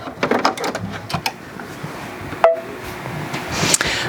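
A Brother Luminaire embroidery machine stitches nearby, making rapid mechanical tapping and whirring with scattered clicks and one sharp clunk partway through, with no talking.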